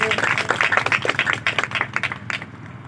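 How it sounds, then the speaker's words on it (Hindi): A church congregation claps during a Sunday meeting, a dense, irregular burst of many hands, close and lively, fading near the end. "ताड़ी बजाओ परमेश्वर दे लई।"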